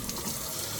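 Tap water runs steadily into a sink as pimentos, also called peppercorns, are rinsed for a stew, giving a continuous broadband splashing hiss with no voices.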